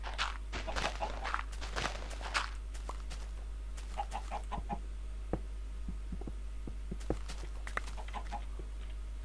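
Blocky video-game chickens in Minecraft cluck in short scattered bursts, with several quick clucks and soft clicks over a steady low hum, fairly close and moderately loud with no talk.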